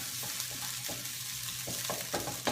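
Soft tofu stew ingredients roast in an Amway iCook pot, giving a close, even sizzle broken by soft scraping stirs, with no one talking.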